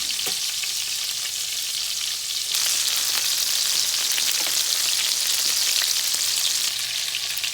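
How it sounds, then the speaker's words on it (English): Ground beef frying in a pan, releasing grease, gives a loud, continuous close-up sizzle and crackle that swells slightly partway through, with no voices. "ground beef is cooking out more grease"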